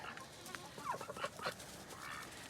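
Farm chickens cluck softly at a distance during evening chores, a few brief murmuring calls over steady outdoor background noise.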